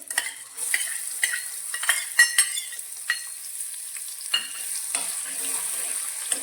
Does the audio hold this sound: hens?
no